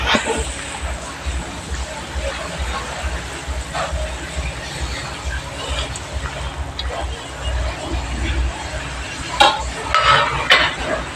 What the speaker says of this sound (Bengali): মাছগুলো দিয়ে এবার এর মধ্যে একটু খুন্তি দিয়ে নেড়ে দেবো